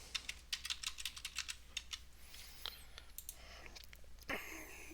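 Someone types a password on a computer keyboard in a quiet room while configuring DNS on pfSense. Fast, irregular keystrokes come close by and alone, with a brief pause and a short burst of noise near the end.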